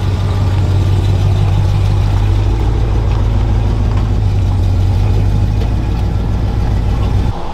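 A 1994 GMC dually pickup, bagged on 24-inch wheels, idles steadily and close by with a deep, throbbing low rumble that holds even for several seconds before cutting off at the end; no voices.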